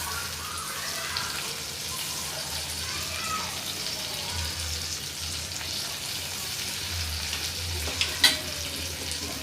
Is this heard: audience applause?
no